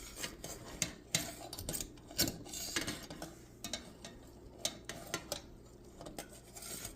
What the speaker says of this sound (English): you can actually just move it so that you're always constantly stirring the whole bottom of the pot